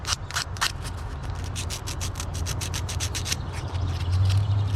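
Sanding and polishing a curved truck cab panel makes a steady, close rasping rub, with rapid repeated back-and-forth strokes and a low machine hum underneath.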